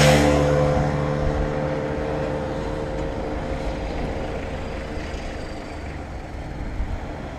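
Traffic rumbles along the main road beside Kenting's beach in Taiwan, a loud vehicle roar that is strongest at first and fades to a steady wash of engine and tyre noise.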